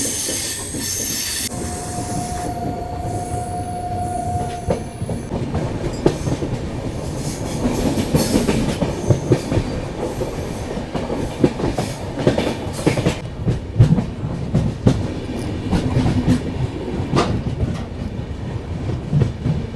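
Khajuraho Udaipur Express rolling on the line from Chittorgarh toward Udaipur, a continuous loud rumble of wheels on rails with rhythmic clacks and brief squeals, heard close from on board throughout.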